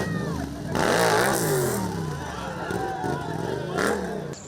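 Motorcycle engines rev and accelerate through a stunt show, loud and close, with crowd babble and shouts mixed underneath and swelling peaks of throttle throughout.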